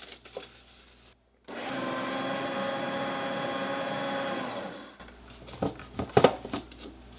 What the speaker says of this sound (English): Then we'll mix that to combined.